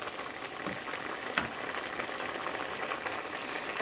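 Spinach curry with shrimp simmering in a pan, a steady close crackle of small bubbles popping continuously with a few sharper spits, no voices.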